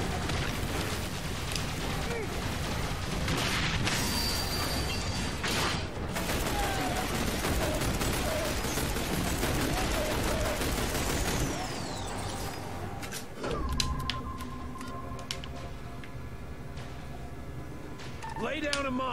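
Heavy volleys of gunfire in XCOM: The Bureau, dense and continuous for roughly twelve seconds and then thinning into scattered mechanical clatter, with voices talking over the combat.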